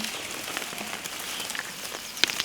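Rain falls steadily on an off-grid cucumber farm, a soft, even hiss with a few sharper drops and taps near the end. No one speaks.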